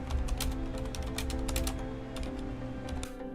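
Rapid typing on a computer keyboard, a steady run of close, crisp key clicks over a constant low background hum, with no speech.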